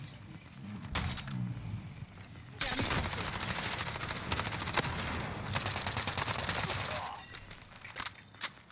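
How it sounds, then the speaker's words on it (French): Gunfire in the video game Call of Duty Warzone, with sustained rapid automatic bursts and scattered single shots, fairly distant and under game ambience, while a player talks between volleys. "Et piscine, ça tire aussi."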